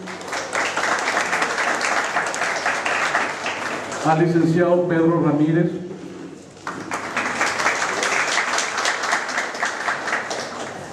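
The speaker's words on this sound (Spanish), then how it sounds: "a quien pedimos un fuerte aplauso" An audience at a formal government tax-service presentation applauds steadily for the whole stretch, with a voice briefly speaking over the clapping in the middle.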